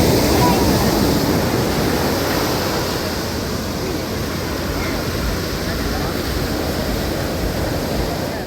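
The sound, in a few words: sea waves at Baga Beach, Goa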